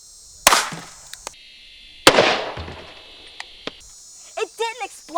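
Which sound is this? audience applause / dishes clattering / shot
shot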